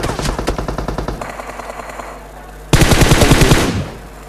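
Bursts of automatic gunfire in the battle royale game BGMI, a fast rattling volley followed by a pause and then a second, louder sustained burst, loud and close with no talk.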